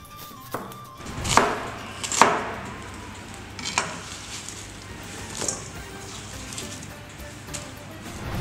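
Onions are chopped on a board for an oven-baked kabab, with a handful of irregular knife knocks and thuds over a low background, close by, some strikes louder than others, and no talking.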